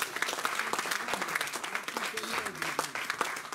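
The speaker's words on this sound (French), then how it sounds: "Donnons une acclamation." Church congregation applauding and cheering during a pastor's sermon, a short burst of dense clapping with voices mixed in.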